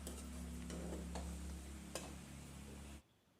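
A spoon stirs colocasia leaf and jackfruit curry in a pan, giving soft scraping and a faint sizzle with a few sharp ticks against the pan. The sound runs steadily, then cuts off abruptly near the end.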